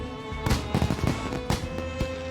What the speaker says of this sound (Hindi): उसे देखने थे पटाखे